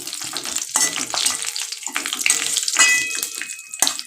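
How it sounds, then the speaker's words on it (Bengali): Crushed black pepper and cardamom tossed into hot oil in a frying pan, giving a steady close sizzle and crackle with a few sharper spits and stirring scrapes throughout. "ওই যে গোলমরিচ আর এলাচ থেতো করে রেখেছিলাম, সেটা দিয়ে দিলাম।"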